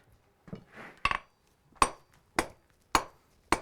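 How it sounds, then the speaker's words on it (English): Hammer blows forging a hot nail shank over the rounded edge of an anvil: five sharp metallic strikes spaced roughly half a second apart, close and ringing, with softer scraping before the first hit. "I'm using the rounded edge of the anvil to help more rapidly draw the material out"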